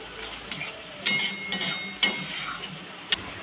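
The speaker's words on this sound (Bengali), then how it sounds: "আমি কর্নফ্লাওয়ারটা দেখো এর মধ্যে দিয়ে দিচ্ছি, দিয়ে দেখো আমি ভালো করে নেড়ে নিচ্ছি" Cornflour being stirred into chili pickle gravy in a pan, with soft scraping and stirring over a faint simmer, punctuated by a few sharp clinks of a utensil against the pan.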